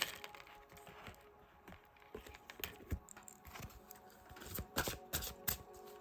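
A deck of angel oracle cards is shuffled close by, with soft riffling, slides and light snapping taps that come in quiet, irregular bursts.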